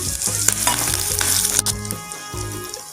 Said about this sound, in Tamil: நான் ஒரு 3 காஞ்ச மிளகாய், 2 பச்சை மிளகாய், கருவேப்பிலை அதையும் இதோட சேர்த்துடலாம்.